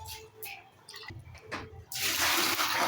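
Saag leaves being washed by hand in water, with soft intermittent splashes and sloshing that give way to a louder, steady rush of running water near the end.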